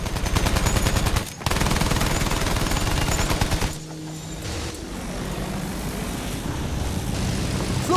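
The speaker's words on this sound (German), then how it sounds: "Flugzeug in Sichtweite!" A warplane passes overhead in the World War I shooter Battlefield 1, its engine drone buried in loud, continuous machine-gun fire and battlefield gunshots.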